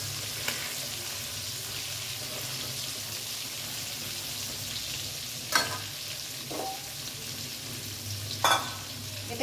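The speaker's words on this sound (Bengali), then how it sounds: "ভালো করে ভেজে, এটা লাল লাল করে ভেজে তারপরে আবার চিকেনের সঙ্গে কষাবো" New potatoes frying in a pan for a chicken dish, a steady soft sizzle running throughout, broken by a few brief louder stirring scrapes near the end, with no talking.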